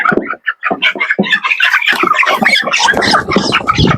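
Broiler chickens about 28 days old squawk loudly and frantically at close range while being caught and weighed, harsh overlapping cries in rapid bursts.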